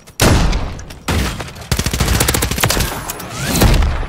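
Shotgun gunfire in Modern Warfare 3, with loud heavy blasts close up: a few big booms, then a dense stretch of rapid rattling fire and more blasts layered over it.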